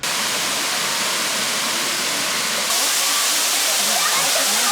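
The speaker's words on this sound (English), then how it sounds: "So this is waterfall number 1." First tier of a waterfall in Kanchanaburi, Thailand, giving a loud, constant roar of falling water up close, swelling slightly partway through.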